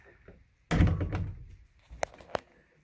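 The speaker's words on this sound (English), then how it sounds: "I'm just going to pull this other door shut quick." An interior door in the bunk room of a 2008 Forest River Sandpiper 316BHT travel trailer is pulled shut, giving one close, solid thump followed by a couple of light latch clicks in an otherwise quiet room.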